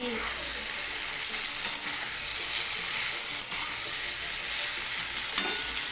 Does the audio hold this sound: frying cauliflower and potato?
yes